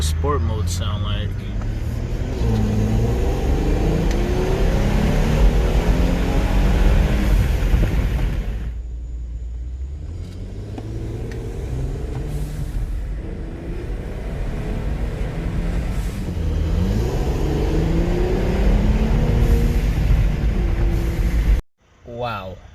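A Mercedes E400 W212 with an MST Performance intake accelerates in sport mode, the engine loud and close as its pitch rises through gears, briefly easing midway before pulling again and cutting off abruptly.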